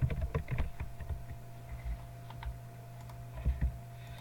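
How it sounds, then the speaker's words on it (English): Keys clack on a computer keyboard in irregular bursts, quick taps clustered at the start and a few more near the end, close to the listener. "Oh boy, I'm having trouble typing today."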